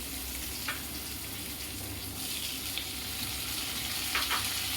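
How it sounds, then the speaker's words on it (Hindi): Onion and tomato frying in a pan for a sambar dal pitthi, giving a continuous close sizzle with occasional light stirring clicks. "प्याज अच्छी तरह भून रहा है। इसी वक्त इसमें मैं टमाटर डाल दूंगी"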